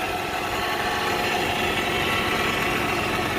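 A 1998 Honda Prelude H22A4 engine idles steadily just after its first start following a head gasket rebuild, a constant close engine drone with no talking.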